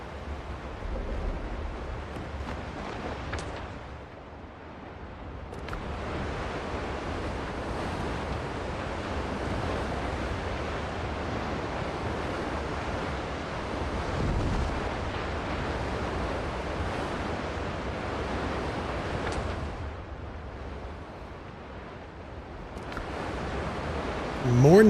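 Ocean waves and wind wash continuously around a ship sailing at night in the pirate game Windrose, a loud, steady surf roar with gusty swells that rise and fall.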